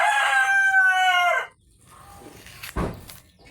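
A person imitates a chicken with a loud, drawn-out rooster-style crow lasting about a second and a half, followed by quiet and a brief sharp sound.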